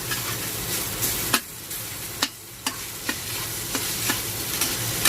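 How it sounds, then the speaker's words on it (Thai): Tofu stir-frying in hot oil until crisp sizzles steadily up close, broken by sharp scraping taps of a spatula against the pan at irregular intervals. "เต้าหู้ก็ เราก็รวนกับน้ำมันจนมันเกรียมแล้วนะครับผม"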